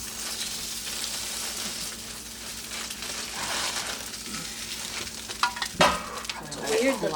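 Cheese crisping in a hot pan gives a steady, moderate sizzle with occasional stirring and utensil scrapes, plus a sharper clatter near the end.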